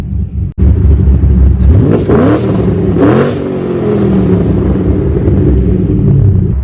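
A Ford Mustang fitted with long tube headers revs its engine up close, giving a loud, deep rumbling idle that climbs through two sharp throttle blips before settling back into a steady heavy rumble.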